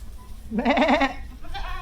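A farm animal at a camel farm gives a short, loud, wavering bleat up close, alone against a quiet background.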